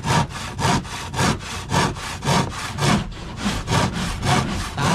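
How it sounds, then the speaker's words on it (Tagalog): Hand saw cutting through wood during demolition work, steady back-and-forth strokes in an even rhythm, about a dozen close, loud rasping passes with no talk. "Mga lagari."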